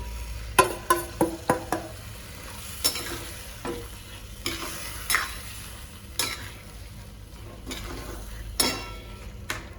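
Cooked chicken pieces stirred into sizzling masala gravy for Marathwada-style sukka chicken, a run of sharp spoon clacks against the pan at the start, then scattered scraping strokes over a steady frying hiss, close and without talk.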